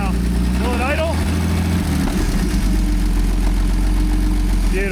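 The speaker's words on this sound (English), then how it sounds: "Quieter. Sounds like a real forklift now." An Allis Chalmers forklift engine runs at a steady low idle with a constant rumble and some vibration. Voices can be heard over it.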